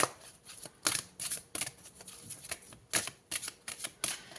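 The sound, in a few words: tarot cards being shuffled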